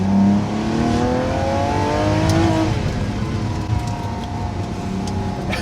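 A 2021 Lamborghini Sian with a V12 hybrid engine accelerating hard, its loud steady roar rising in pitch through the gears, close and alone without speech.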